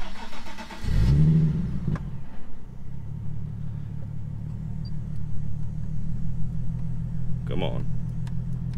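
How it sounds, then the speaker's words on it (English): A Nissan 370Z engine cranks and catches with a loud rising rev, then drops into a steady, low idle rumble that continues under a few brief spoken words. "Here, let me turn the car on here."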